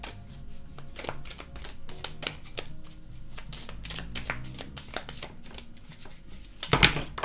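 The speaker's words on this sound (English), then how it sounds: "Gonna reshuffle that." A deck of tarot cards is shuffled up close, a long run of rapid, crisp riffling flicks that ends in a louder final burst, with no voices.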